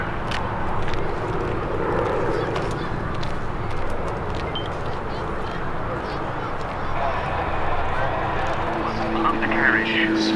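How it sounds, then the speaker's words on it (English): Gloster Gladiator biplanes fly in formation at a Duxford airshow, their engines giving a steady distant drone under a commentator's continuous voice over a public address. "leading a pair of Gloucester Gladiators, one each from Shuttleworth and from the Mythical collection"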